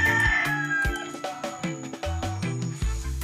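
A crossbreed native rooster with long legs and a long neck crows in clear, drawn-out calls close by, with no talk over it.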